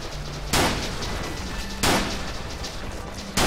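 Gunfire in the indie FPS video game The Legend of Alfur, three loud, broad-band shots spaced more than a second apart, each a sharp burst that decays into steady background game noise.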